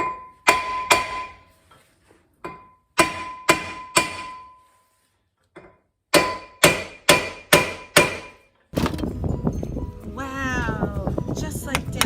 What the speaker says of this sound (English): hitting the top hat or the hub section of the rotor with a mallet